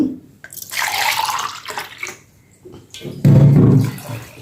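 Water pours into a pot for cooking rice with moong dal, a few uneven splashing bursts separated by short pauses, with a heavier, louder gush near the end and no talking.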